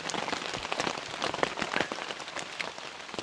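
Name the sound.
rain falling on a tent while camping in the woods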